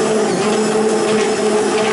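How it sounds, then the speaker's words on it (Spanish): An electric hand blender whirs continuously as it mixes homemade liquid laundry soap for whites and colours, a loud, steady motor drone close by with no pauses. "Y ahora lo que voy a hacer es con la batidora lo voy a ir batiendo."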